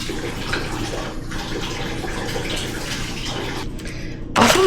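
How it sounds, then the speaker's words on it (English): Steady tap water runs over blueberries being rinsed in a kitchen sink, a close, continuous splashing stream that ends with a louder burst. "Let's rinse these off."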